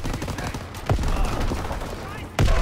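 Gunfire from a World War II battle in Call of Duty: World War II, dense overlapping shots with heavy booming impacts near the start and end, loud and continuous under battlefield noise.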